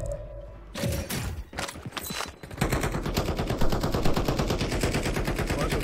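Rapid automatic gunfire in a Call of Duty: Warzone match, first a few separate shots, then a steady, loud stream of close machine-gun bursts with no one talking over it.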